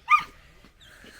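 A dog gives one short, close bark-like yelp with a whine at the start of a walk, followed by quiet outdoor background.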